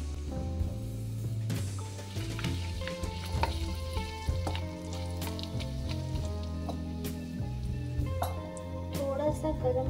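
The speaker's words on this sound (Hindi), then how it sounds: "अब इसमें हम डालेंगे जीरा, तेज पत्ता, हरी इलायची, काली इलायची, दालचीनी" Whole spices such as cumin, bay leaf, green and black cardamom, cinnamon and cloves fry in hot butter and oil, a soft continuous sizzle running under steady background music, close and moderate in level.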